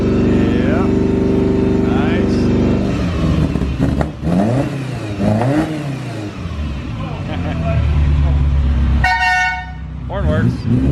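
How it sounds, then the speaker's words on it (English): A barn-find Ferrari 308 GTB sounds its horn, a short harmonic blast near the end, over a running engine and people talking close by. "Horn works."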